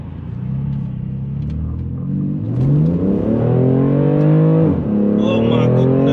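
A BMW M3 with a BootMod3 GTS tune in sport mode pulls hard, its engine note climbing steadily through the revs with a loud, rising roar heard from inside the cabin, easing briefly near the end before building again.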